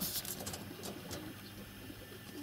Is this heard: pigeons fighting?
yes